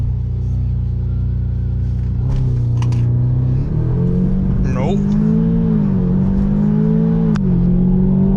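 MK2 Audi TTS/Golf R engine rising under hard acceleration in second gear, then stumbling and surging as it hesitates, a loud close in-cabin drone throughout, with a brief spoken word.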